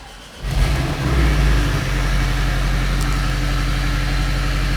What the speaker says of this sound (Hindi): तो इसका एग्जॉस्ट आपको सुनाते हैं।